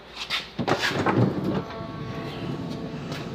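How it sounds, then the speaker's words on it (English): Sliding side door of a Ford Freestar van rolling open and thudding shut, a close, fairly loud mechanical slide and clunk in the first second and a half, followed by a steady low hum. "We got the fully functioning door again."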